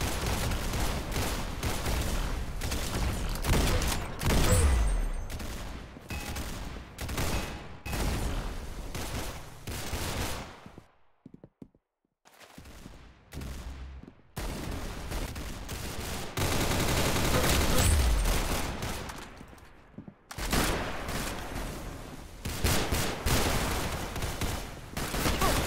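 Rapid gunfire from the Roblox game Arsenal crackles in dense bursts, loud and close, broken by a few short quiet gaps between volleys.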